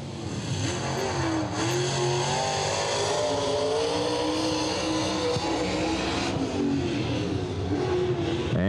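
A stock car on a qualifying lap at Wartburg Speedway roars steadily with engine pitch sweeping up and down through the turns, loud and continuous with no talk over it.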